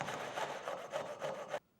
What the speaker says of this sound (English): Make sure you're sawing with care because the pieces are going to be quite small